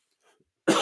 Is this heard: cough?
yes